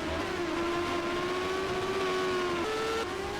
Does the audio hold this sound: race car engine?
yes